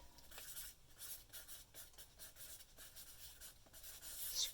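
Big scribbly letters written by hand on brown paper, a faint, close scratching that comes in quick strokes and short bursts with brief pauses, no voices.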